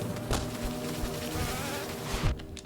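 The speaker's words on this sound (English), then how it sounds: "Now I just need to go kill the big bees." Buzzing of big bee enemies in the video game Hollow Knight, a dense insect drone running steadily throughout with a couple of sharper swells, no talking over it.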